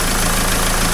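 A diesel car engine idles steadily after its injectors were cleaned with Wynn's, a loud, even low rumble with a faint knocking texture running unbroken throughout.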